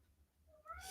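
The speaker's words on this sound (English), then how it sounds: "the cat's whining. Wants to go to bed." A house cat whines with a rising, drawn-out meow near the end, fairly close and loud against a quiet room.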